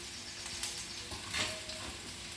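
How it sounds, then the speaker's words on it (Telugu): Ginger and garlic fry quietly in a pan, giving a soft, even sizzle broken by a few light stirring scrapes and one brief louder rustle near the middle. "అల్లం వెల్లుల్లి ఫ్రై అయిందండి"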